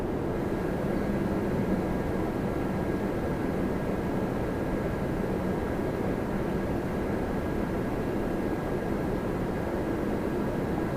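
A Qatar Airways Airbus A350-1000 jet gives off a steady, broad rumbling roar, heard from a distance at an airport and holding constant throughout with no talk.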